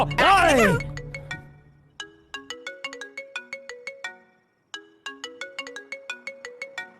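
A mobile phone plays a bright, plinking ringtone melody that repeats in two phrases after a short loud shout at the start. The notes are clear and close.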